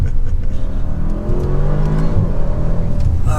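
An ABT Audi RS7-R accelerates hard, its engine droning loud and close with a steady rising tone and continuous road roar, no talk over it.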